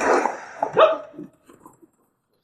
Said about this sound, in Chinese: 那我怎么听见狗叫了？